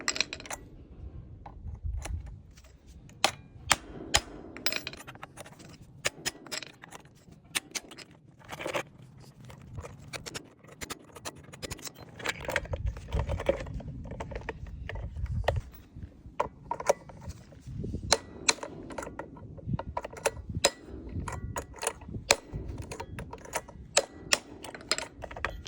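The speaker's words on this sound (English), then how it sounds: "use alligator staple fastener installation tool to tighten alligator belt lacing" Alligator staple fastener installation tool pressing staples into conveyor belt lacing: a long series of sharp, irregular clicks and metallic snaps with scraping in between, close and fairly quiet, with no talk.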